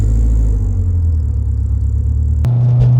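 A Honda S2000 engine droning steadily while driving on a road, close and loud, with a low rumble that drops in pitch near the end, no talk.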